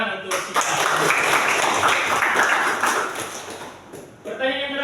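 Classroom pupils clap in a dense, steady burst for several seconds. A voice speaks briefly just before and just after the applause.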